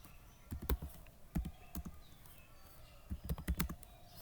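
Soft, faint keystrokes on a computer keyboard come in quick irregular bursts, with short pauses between clusters of taps.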